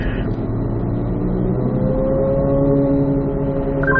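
A race car accelerates out of a corner on a track, its engine holding a steady, loud drone with rising harmonic tones and no voices over it.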